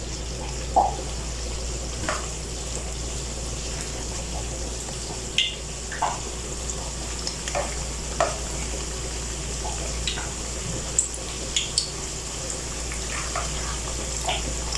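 Pakoras frying in hot oil give a steady, loud broadband sizzle that runs throughout, broken by occasional brief clicks and spatters.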